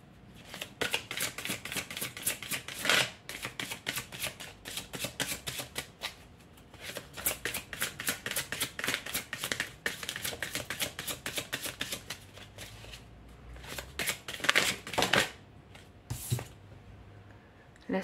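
Tarot cards shuffled by hand in long continuous riffling bursts, close and crisp, with short pauses between rounds of shuffling and no talking over them.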